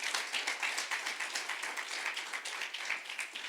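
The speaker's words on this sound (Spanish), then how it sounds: "denle un aplauso al Señor" A church congregation applauds during a service with a dense, even patter of many hands clapping at once. The clapping is soft and distant and continues steadily without a break.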